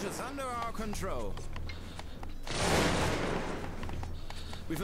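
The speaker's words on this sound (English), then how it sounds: "We are under enemy gunfire." A volley of musket gunfire crackles in the video game Cossacks II: Battle for Europe, a dense burst of shots following spoken game announcements, moderately loud and lingering.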